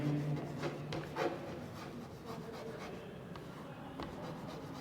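A pen writing on paper makes a soft, close scratching that runs continuously in short strokes, with no talking over it.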